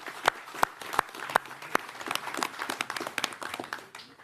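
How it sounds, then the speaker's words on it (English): An audience applauds for the district attorney at a mayoral announcement on the opioid epidemic. The clapping is steady and fairly close, with a few sharp, loud claps standing out early on, and it carries on for about four seconds. "So let's give Mike another round of applause for that."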